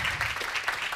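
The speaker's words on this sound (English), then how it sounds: "So please, one more round of applause." An audience at a tech conference talk claps in a steady, dense round of applause that fills the whole short moment at even loudness, with no voices standing out.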